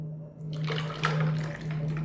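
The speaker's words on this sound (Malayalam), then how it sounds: "ഒരു ഗ്ലാസ്സും കൂടെ ഐസ് ക്യൂബ് ഇട്ട് കൊടുത്തു അത് കഴിഞ്ഞിട്ട് ഒഴിക്കാം" Cucumber juice splashes into a glass of ice cubes in one short, steady pour over a low constant hum.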